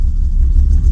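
A cheap Gelandewagen pulls away on its first test drive, its engine giving a steady, close low rumble with no voices over it.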